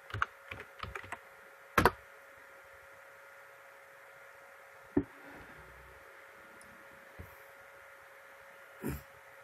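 Typing on a computer keyboard while entering a search, a few quick clustered key clicks at the start, then sparse, isolated taps over a faint steady hum.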